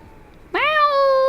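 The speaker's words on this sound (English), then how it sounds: "That was a loud meow." A cat lets out a single loud, drawn-out meow close by, starting abruptly and holding a steady, insistent tone after a moment of quiet.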